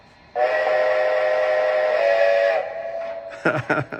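A Lionel brass hybrid Strasbourg 90 model train whistle blows one long steady tone, then a quieter trailing note, followed by a few short chuffing bursts.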